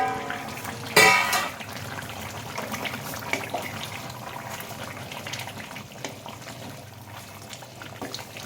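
Water is poured into a pot of desi chicken jhol curry with potatoes, a short gush near the start that gives way to a quiet, steady simmer. No one speaks.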